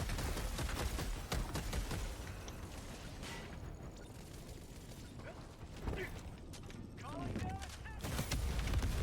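Rapid gunfire in the video game Helldivers 2 comes in dense bursts of sharp cracks, loud and close, with people talking over it.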